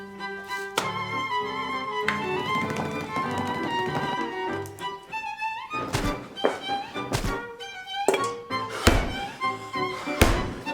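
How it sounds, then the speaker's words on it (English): Heavy wooden thuds as Tudor biscuit bread dough is pummelled with a length of wood, several loud irregular blows landing in the second half over and between a bright musical backing. "this traditional Tudor recipe means that I have to pummel it with a length of wood for 2 hours"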